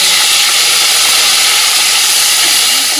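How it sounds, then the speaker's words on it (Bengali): Cashews, raisins and paneer frying in hot oil give a loud, steady, dense sizzle and hiss that stays constant throughout with no pauses. "এর মধ্যে আগে কাজু আর কিশমিশটা দিয়ে দেবো এর সাথে একবারে পনিরটা দিয়ে"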